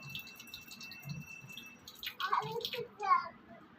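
Water runs steadily from a household tap as a soft, even hiss, with a voice chattering briefly near the end.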